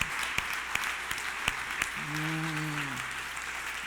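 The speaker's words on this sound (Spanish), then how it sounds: "dale un aplauso ahí bien fuerte a papá Dios" Scattered applause from a church congregation, thin and fairly faint with a few sharper claps standing out, while a low sustained tone swells briefly in the middle.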